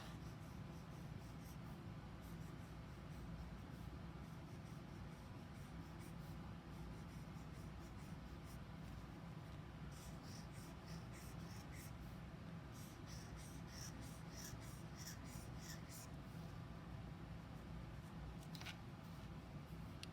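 Pen strokes scratching across paper during hand lettering calligraphy practice, soft and close, with faint continuous scratching and quick strokes clustered in the later part, under a steady low room hum.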